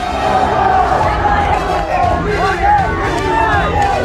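Rioting crowd wrecking the Purab Sarai police station in Munger, Bihar, roughly 200 people inside: continuous loud clamour of many voices, with shouts and yells breaking out over the din.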